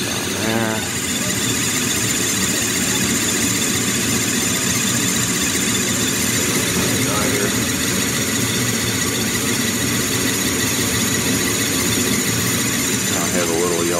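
A Bryant 80% gas furnace, model 395CAV042091, firing up after a heat exchanger replacement: a loud, continuous roar and rumbling hum that holds steady from start to finish.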